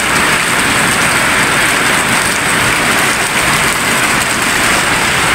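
Heavy rain pours down steadily on a home garden, a loud, dense, unbroken hiss of falling water that holds at the same level throughout.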